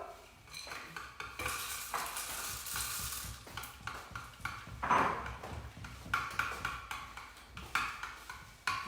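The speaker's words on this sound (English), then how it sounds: "give it all a really good stir" A spoon stirs melting chocolate with golden syrup and butter in a pan, with repeated scraping and clinking strokes and a soft sizzle, close by.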